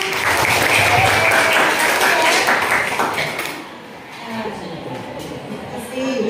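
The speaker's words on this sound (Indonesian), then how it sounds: "kasih tepuk tangan" Eighth-grade students in a junior high science class burst into dense applause for a classmate; it stays loud for a few seconds, then thins out, with voices murmuring underneath.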